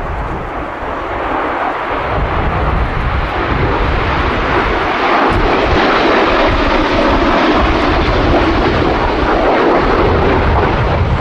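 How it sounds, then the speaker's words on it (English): A Panavia Tornado jet with swept wings passes low and fast at an air show, its twin RB199 engines at full power producing a loud, sustained, broadband roar that holds steady throughout. "one of the two Tornadoes, low, fast, wing swept back, RB199 engines at full jack"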